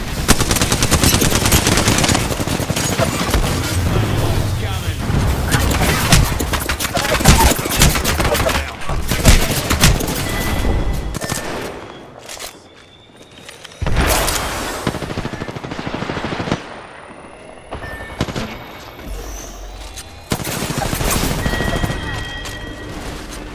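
Sustained automatic gunfire in a video game, dense bursts and explosions nearly continuous for the first half, then intermittent louder volleys with short pauses, alongside game sound effects.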